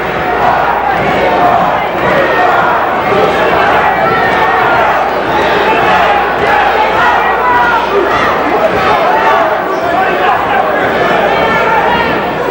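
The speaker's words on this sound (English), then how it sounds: "You hear the crowd chanting Leroy." A boxing crowd chants for Irish fighter Leroy Haley during his bout with Bruce Curry, a loud, dense arena roar with rhythmic shouted chanting and commentary running over it throughout.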